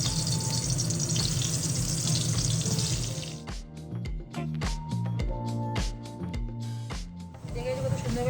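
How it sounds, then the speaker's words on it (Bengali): Potato pieces hit hot oil, making a loud, dense sizzle for about three seconds before it gives way to pulsing tonal sounds and voices. "এবার আমি এক এক করে আলুগুলো ভেজে নেব।"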